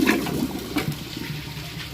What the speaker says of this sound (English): let's see if it can flush with no water in the bowl.